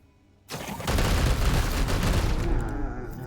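Dense, sustained volley of weapons fire from a Warhammer 40,000: Chaos Gate - Daemonhunters battle, bursting in loud after a quiet half-second and rolling on continuously, heavy and booming.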